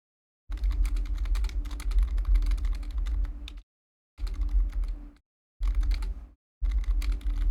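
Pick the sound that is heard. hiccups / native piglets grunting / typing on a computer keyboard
typing on a computer keyboard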